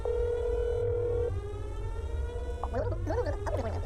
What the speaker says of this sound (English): Not the rotary phone, too.